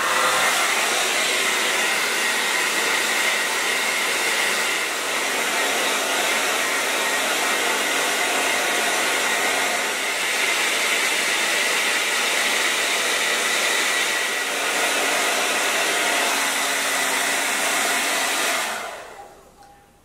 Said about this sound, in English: take the blow dryer. I'm gonna put it on high and warm heat.